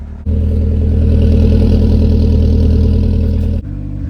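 A turbocharged Mazda Miata engine fires up close by and holds a loud, rough, throbbing rev for about three seconds, then drops abruptly to a lumpy idle.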